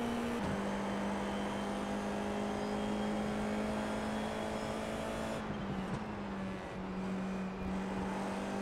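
Formula 4 race car engine in iRacing at COTA, a steady high-pitched whine holding one tone, then dipping and shifting as another car passes; continuous and loud, with no talking.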